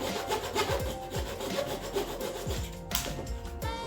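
A sharp chisel shaves and pares wood on a Tuam/Mayo-style triangular chair during assembly, producing a quick series of close, scraping rubs and short strokes, quiet and without talk.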